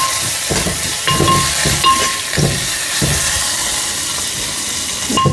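Curry leaves fry in hot oil in a pan, a close, crackling sizzle with bursts of spluttering and stirring scrapes, loud and busy throughout.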